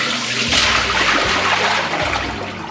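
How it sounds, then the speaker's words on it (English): Salted water drains from napa cabbage leaves after soaking for kimchi, pouring and splashing in a steady rush with a few dull knocks, close and fairly loud. "We can drain now the cabbage,"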